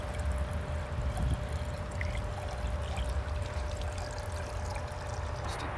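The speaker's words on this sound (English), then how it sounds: "you can fill it the rest of the way with water" Water poured into a container already holding Evapo-Rust while restoring an old tiller, a steady rushing pour lasting several seconds at moderate loudness with no talk.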